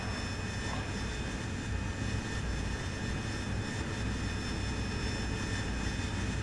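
A steady, loud roar of an AV-8B Harrier jet engine in the DCS flight simulator, a continuous broadband whine and rumble with no change across the stretch and no voices.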